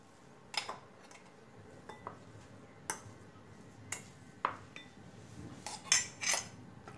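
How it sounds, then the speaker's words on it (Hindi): Ground soybean scooped from a grinder into a bowl, heard as scattered light clinks and taps of a spoon on metal and dishware, a dozen or so sharp hits over a quiet room, close but soft, no talking. "पहले सोयाबीन को पीस के रेडी कर लिया, एक बाउल में निकल के रखती हूँ"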